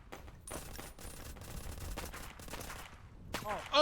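Rapid bursts of gunfire in the STRAFTAT shooter game, a dense stream of shots filling the clip at steady loudness, with a louder burst at the very end.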